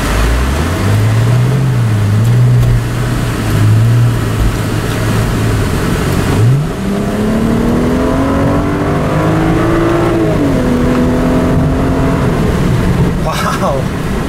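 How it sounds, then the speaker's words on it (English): A 2010 BMW 135 convertible revs up, its engine pitch rising steadily and holding a loud, close drone for several seconds, with a brief voice in between. "I can't get over how fast this little car is."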